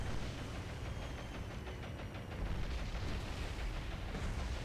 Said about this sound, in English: we put a bomb into the side of that transport